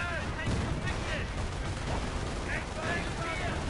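Artillery bombardment in the World War II strategy game Company of Heroes, a dense continuous barrage of booming blasts and crackling gunfire with a voice talking over it throughout.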